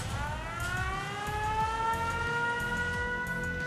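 A camp arrival siren in Fallout 76 wails steadily and loudly with rising tones, over a continuous rumbling background with no talk.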